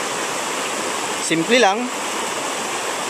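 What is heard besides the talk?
small stream flowing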